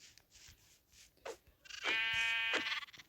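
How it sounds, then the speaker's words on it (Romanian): Sheep bleating in the Minecraft video game: a few faint soft sounds first, then one loud, drawn-out, wavering bleat near the end, heard alone with no talk. "Hai să omorâm oaia asta."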